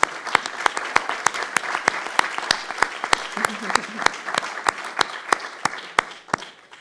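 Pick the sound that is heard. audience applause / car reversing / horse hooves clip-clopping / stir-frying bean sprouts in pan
audience applause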